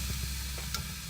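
Meat back in a pan on low heat, giving a quiet, continuous sizzle with a faint tick or two over a short stretch.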